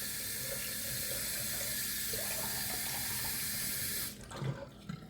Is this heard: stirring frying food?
no